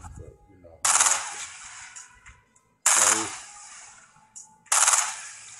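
A SCAR assault rifle in Fortnite fires in three loud bursts separated by pauses, each a sharp rattle that tails off, with quieter game sounds between.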